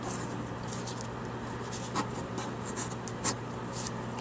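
Pencil sketching a rough outline of an M6A1 heavy tank on paper, a soft continuous scratchy rubbing with a few brief sharper strokes, close and quiet over a steady low hum.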